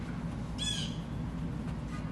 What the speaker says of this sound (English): There's a blue jay chirping